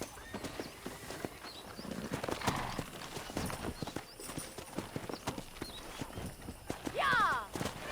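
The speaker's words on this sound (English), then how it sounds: "Let's see if we can't wrangle some horses." Horses in Red Dead Redemption clatter in an uneven run of hooves, with sharp thuds and a clear neigh near the end, mixed with game ambience and voices.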